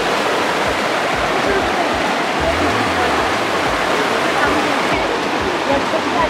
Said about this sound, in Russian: И водопад туда